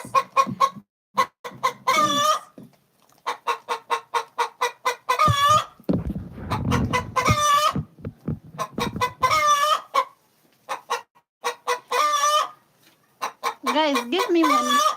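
Backyard chickens cluck repeatedly while a rooster crows several times, loud and close, with short pauses between calls.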